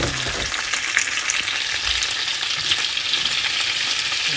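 Chopped tomatoes sauté in a pan for Ilocano pinakbet, giving a loud, continuous sizzle with occasional soft stirring scrapes and no voices.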